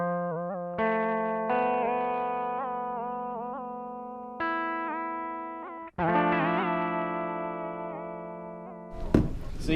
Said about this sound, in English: You can hear the modulation changing